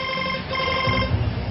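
A phone rings with a steady electronic ringtone, a sustained tonal warble that fills the brief moment at moderate loudness with no talk.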